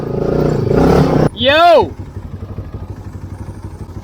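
A cross kart engine buzzes and revs loudly up close, with a shouted exclamation in the middle, then settles into a rapid rhythmic putter as it drives on.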